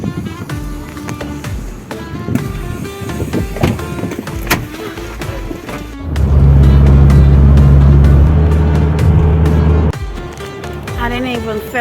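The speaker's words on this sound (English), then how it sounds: "So we're in the back of a van now." A van carries passengers across the Wadi Rum desert in Jordan. Engine and road rumble change throughout, and a loud low droning surge in the middle gives way to rattles and knocks, with some talking.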